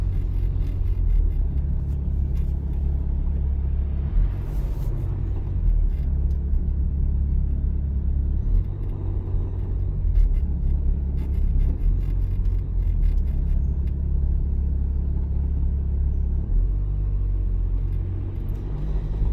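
Car engine and road noise during a driving exam, heard from inside the cabin as a steady low rumble and whir that holds evenly throughout, with no talking.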